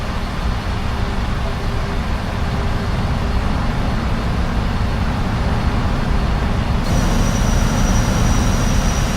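The landing gear of a PMDG 747 drops in a flight simulator, a loud, steady mechanical rumble inside the cabin with a small shift in tone partway through. A voice briefly talks under it.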